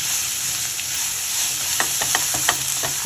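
Ridge gourd peel sautéing in a hot pan, a loud continuous sizzle with a spatula scraping and stirring in short strokes near the end, close up and without talk.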